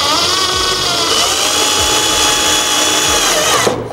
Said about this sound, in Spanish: vamos a proceder a agarrar un taladro y vamos a hacer una pequeña perforación para elevar nuestros cables